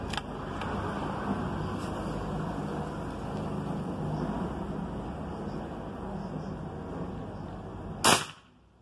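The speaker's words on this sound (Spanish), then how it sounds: "ahora vamos a hacer otro tiro" A single sharp crack from a Fox M10 PCP air rifle in 6.35 calibre stands out near the end above a steady, noisy outdoor background.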